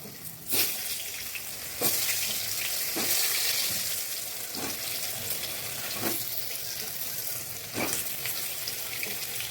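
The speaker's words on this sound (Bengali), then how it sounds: "আলুগুলো আমি লাল লাল করে ভেজে নেব।" Potatoes fry in white oil in a wok with a steady, loud sizzle, broken now and then by sharper crackles and bursts as the pieces are moved.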